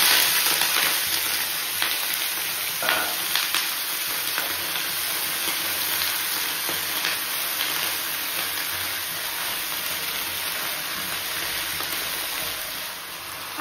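Vegetables frying in hot oil in a kadai, a steady, dense sizzle with a crackling hiss that stays even and close throughout, with no voices over it.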